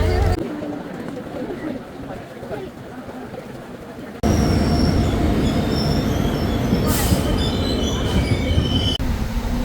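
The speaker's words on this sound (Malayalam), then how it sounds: "ട്രെയിൻ വരുന്നുണ്ട് നമ്മളിപ്പോൾ ട്രെയിനകത്ത് കയറാൻ പോവാണ്" A train rumbles in loudly, wheels squealing at times, with crowd noise at the platform; the roar jumps up partway as it arrives.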